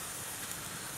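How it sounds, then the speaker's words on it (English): Steam hisses loudly and continuously from a rocket stove, a harsh, broad, unbroken rush with no pauses and no voices. "That thing's throwing off some steam."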